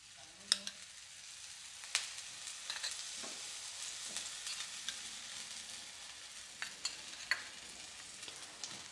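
Besan flatbread frying in oil on a pan gives a steady, fairly quiet sizzle, broken by several sharp clicks and scrapes from a spatula, with no voices.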